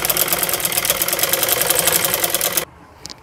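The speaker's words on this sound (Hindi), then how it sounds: "और अब हम इसके ऊपर एक सिलाई लगाएंगे, बुकरम को दबाते हुए बिल्कुल इसके कॉर्नर के ऊपर से" Electric sewing machine running steadily for over two seconds as it stitches down fabric over a buckram corner for a V-neck, rapid even needle rhythm, close and loud, then stopping abruptly into near silence.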